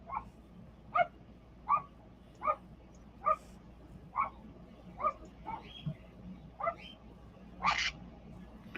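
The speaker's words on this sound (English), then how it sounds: "The dogs are barking again, Coop." Dogs bark in a steady series of about ten separate, evenly spaced barks in a residential neighbourhood, moderately distant, with no talking over them.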